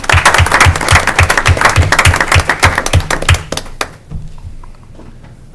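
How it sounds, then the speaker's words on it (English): An audience at a utility board meeting applauding with brisk clapping over a rhythmic thumping beat, the applause fading out after about four seconds, leaving quiet room noise. "maybe a round of applause for this group"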